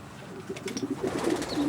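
Stock pigeons cooing inside a racing pigeon loft, several soft rolling coos overlapping in quick succession, close and moderately loud in an enclosed space.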